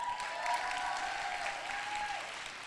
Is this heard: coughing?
no